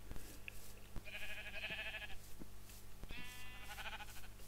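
Sheep bleating in Minecraft: two blocky, nasal bleats at moderate distance, the second longer and wavering, over a low steady hum with scattered clicks and no talk.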